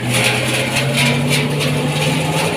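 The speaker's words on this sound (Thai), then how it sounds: "แบบใช้ PTO ปั่น นี่คือความแรงของ PTO รอบดีมาก" Nomoto E23 farm tractor revving steadily while its PTO shaft drives a spinning rotary tiller, giving a continuous loud droning engine hum with a strong low rumble and no breaks.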